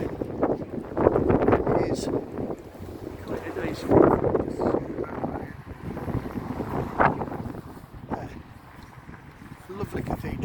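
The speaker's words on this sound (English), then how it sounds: "It is freezing today, freezing cold, a bit of wind." Cold winter wind buffets the microphone outdoors, a rumbling gusty roar that swells and fades throughout while a person talks over it.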